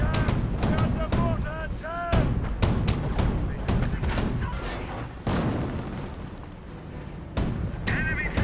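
Gunfire and explosions strike a Panther tank in a Company of Heroes 1 battle, with repeated sharp cracks and booms over continuous game sound and overlapping speech throughout.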